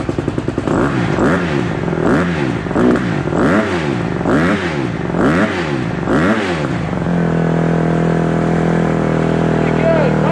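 A Honda CRF150R dirt bike engine runs close by after a carburetor cleaning, revving in repeated rising-and-falling blips for about seven seconds before settling into a steady, loud idle.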